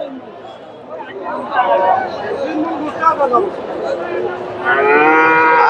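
Friesian bulls at the Dhaper Hat livestock market in Bogura: a loud, drawn-out moo rises near the end over a steady murmur of crowd chatter and nearby voices.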